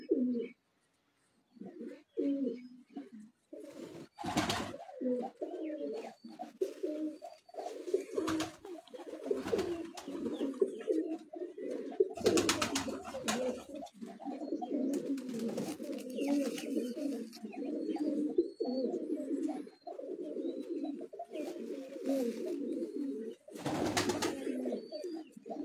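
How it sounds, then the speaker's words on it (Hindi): Breeder pigeons from a master breeder's loft coo steadily on a rooftop, their low rolling calls continuous and fairly close, with a few sharp bursts of noise breaking in and faint speech at times. "उस्ताद अकमल खान के घर का कबूतर है मेन ब्रीडर कबूतर है"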